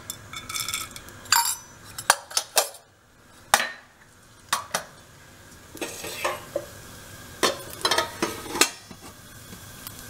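Mustard seeds and urad dal are tempered in a pan for coconut chutney: clinks and scrapes of a spoon against the pan come in irregular bursts, with soft crackling sizzle between them, close by.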